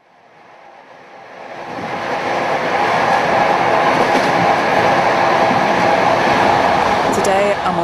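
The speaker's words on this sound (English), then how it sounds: "train travelling to Warsaw." A train bound for Warsaw rolls along with a steady, loud broadband rumble and rattling that builds over the first seconds, then holds constant, with faint squeals near the end.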